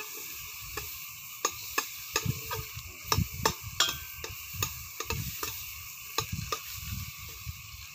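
Butter sizzling in a pan before tilapia is grilled, a steady soft hiss broken by a series of sharp clicking and scraping stirs of a utensil against the pan, close and distinct.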